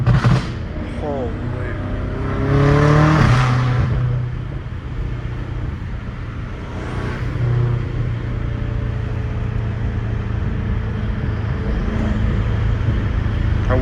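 A catless BMW M5 exhaust roars as the car accelerates, a loud droning rasp with rising surges, heard from inside with people talking and exclaiming over it.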